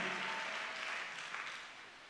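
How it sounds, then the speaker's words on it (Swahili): Church congregation applauding together, a steady broadband wash of many hands clapping that stays loud throughout and fades slightly toward the end, with no talk over it. "mpigie Bwana makofi mengi ya shangwe"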